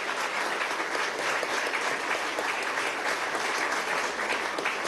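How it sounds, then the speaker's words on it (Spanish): A crowd applauds at a hospital inauguration in El Furrial, Venezuela, with steady, even clapping from many people heard at moderate distance and sustained throughout without voices. "le damos nuestro amor y el aplauso"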